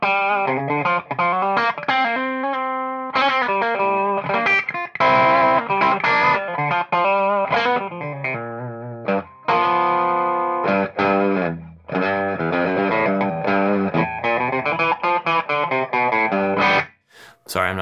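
Reverend Kingbolt RA electric guitar with humbuckers, played in a twangy chicken-picking style: a steady run of bright, snappy plucked notes and short licks, close and loud, with no talking over it.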